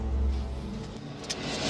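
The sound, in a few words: car driving off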